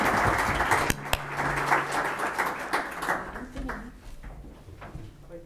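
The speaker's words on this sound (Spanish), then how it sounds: "Aplausos." Audience applause at the 10th anniversary conference of Almacén de Derecho: a dense wash of many hands clapping in a hall, strongest at first and thinning after about three seconds, with faint voices underneath.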